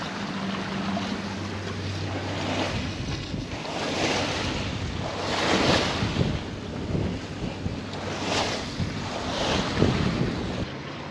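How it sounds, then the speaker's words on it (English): A sailboat crossing a bay in decent wind, with continuous wind rushing over the microphone and waves surging and washing past the hull in slow, recurring swells. "it's fun just to like sail across the bay in decent wind"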